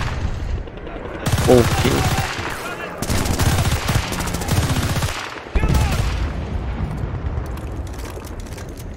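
Rapid bursts of automatic gunfire from the video game Battlefield: Bad Company 2, loud and sustained with brief pauses between volleys, while a player speaks briefly over the shooting.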